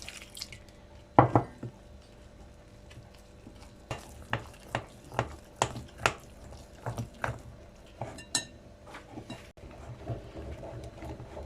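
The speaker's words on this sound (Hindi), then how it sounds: "अब हम इसको जो है अच्छी तरह इस तरह मिक्स कर लेते हैं, और इसके साथ ये थोड़ा थोड़ा करके हम पानी डालेंगे" Water is added little by little and stirred into dahi bara batter in a bowl: a steady series of soft, wet squishing and tapping strokes, close and fairly quiet, with a sharper clatter near the start.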